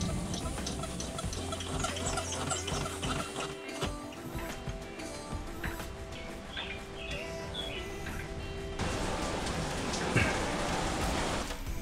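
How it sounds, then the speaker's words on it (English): Wind-blown rain sweeps into an open garage, a constant hiss and patter of drops on surfaces near the door, with birds chirping faintly and the rain surging louder near the end. "I'm like 4 feet into the garage and it's blowing rain on me"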